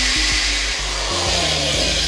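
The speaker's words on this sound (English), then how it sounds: "So we're going to continue drilling this out till we get the size that we want" A drill bores out the plastic shell of a PS4 controller for a button mod, a loud, close, steady whine with its pitch dipping and rising in short bursts as the bit bites.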